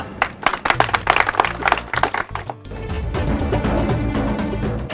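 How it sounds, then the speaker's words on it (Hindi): An audience at a staged show claps. Separate hand claps come first, then they merge into steady, loud, sustained applause. "जोरदार तालियां।"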